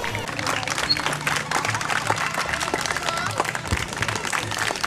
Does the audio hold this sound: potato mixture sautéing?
no